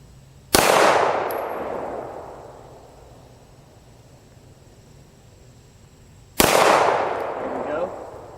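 Two sharp, loud gunshots at an outdoor shooting range, roughly six seconds apart, each with a long echoing decay into quiet background hiss; the firearms include M&P9 and M&P Pro pistols, a Remington M12 and an AK47u.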